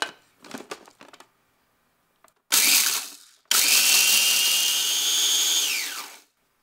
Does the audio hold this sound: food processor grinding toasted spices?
yes